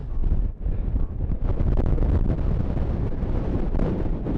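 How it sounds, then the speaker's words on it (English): Strong wind roars and buffets the microphone continuously, loud and rumbling with gusty surges throughout. "Oh, it's so windy. It's getting even worse."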